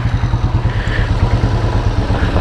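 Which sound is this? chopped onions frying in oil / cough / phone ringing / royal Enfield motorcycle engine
royal Enfield motorcycle engine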